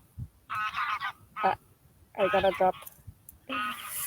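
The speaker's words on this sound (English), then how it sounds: "You hear the geese? The geese are coming in." Geese honk as they fly in, several loud, close bursts of nasal calls in irregular clusters, with a few spoken words in between.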